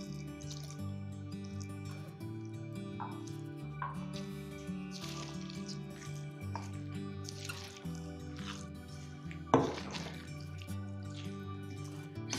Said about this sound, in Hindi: अब हम इसमें 1 ग्लास पानी डालेंगे।